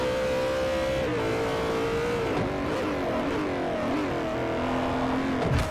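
A BMW race car in Forza Motorsport 4 slides through a corner with a steady engine drone that shifts pitch, faint tire squeal woven through the sustained roar, loud and continuous with no talking.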